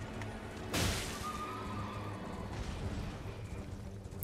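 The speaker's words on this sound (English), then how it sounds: "whenever his horse does the stomp like that, I really, really don't recommend trying to hit him" Horse neighing and stomping in Elden Ring, a heavy impact burst followed by a whinny over continuous game rumble, loud and close.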